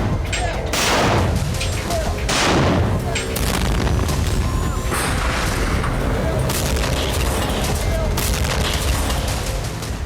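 Heavy artillery shelling rolls through Donetsk at night, a series of deep booms and rumbling blasts that fade out, loud and continuous with a dense background rumble.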